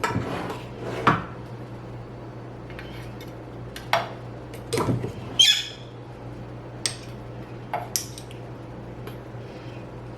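An ingredient scooped into a quarter-cup measuring cup, giving a few sparse clinks and scrapes of the cup and spoon against a jar, close by, with bird chirps in the background.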